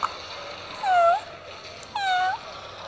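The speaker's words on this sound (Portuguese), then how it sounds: "Tem um gato aqui." Two drawn-out meows from a cat, each a single rising-and-falling call about a second apart, clear and fairly close over a quiet background with no talk.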